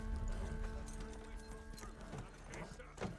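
Horses' hooves clip-clop in a TV drama scene, steady and moderately close, blended with background music and ambience; voices are faintly present.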